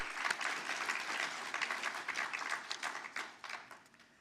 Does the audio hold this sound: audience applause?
yes